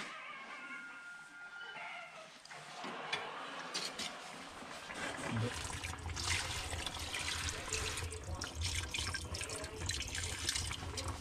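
Water runs steadily and splashes into a pot of rice for plov, a continuous trickling pour lasting over ten seconds that grows fuller partway through, heard up close with no talking.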